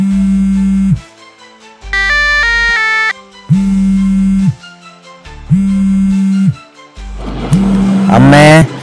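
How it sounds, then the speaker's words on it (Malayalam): Loud electronic phone ringtone playing a repeating melodic pattern in regular bursts, ending with a brighter, busier phrase. "ഇതാ ഫോൺ വരുന്നു"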